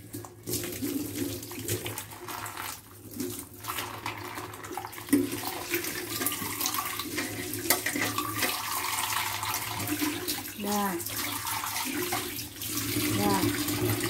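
Dishes being washed under a running kitchen tap, with steady flowing water, clinks of plates and glasses, and voices talking over the water.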